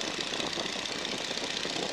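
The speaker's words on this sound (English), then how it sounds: "there's a harmonic vibration between engine and propeller above 1900 RPM" A Boeing PT-17 Stearman biplane's radial engine and propeller drone steadily in flight. The roar is dense and continuous, with a fast rough pulsing and no pauses, heard from inside the open cockpit.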